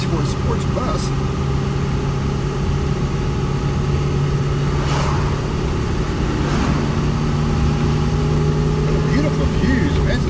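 A bus engine drones steadily while climbing a narrow mountain road toward higher ground out of Quartzsite, holding a constant low hum throughout with faint voices underneath.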